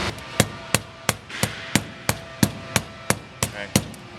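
A wooden block being hammered down into the bent roof of a Four Wheel pop-up camper: a dozen sharp, evenly spaced knocks, close and loud, with no talk.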